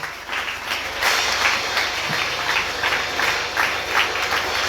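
A church congregation applauds steadily at a sermon, a dense wash of clapping that rises in waves for the whole stretch.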